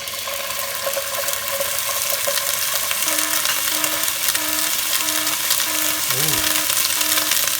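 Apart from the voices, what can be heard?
ginger garlic paste added to hot pan, sizzling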